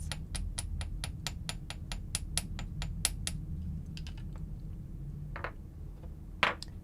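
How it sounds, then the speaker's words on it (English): A small hammer taps a round-wire earring loop in a quick, steady run of about a dozen light metallic ticks, followed by a few scattered softer taps. Faint and close, with no talk. "I'm going to try to hammer my loop just a little bit without hitting the overlapping sections."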